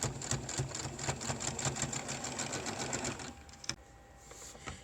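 A sewing machine runs in a rapid, steady stitching rhythm while sewing a pleated fabric mask seam, then stops abruptly near the end with a brief clunk and quieter handling.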